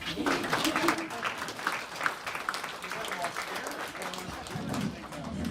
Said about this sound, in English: You guys can clap for him.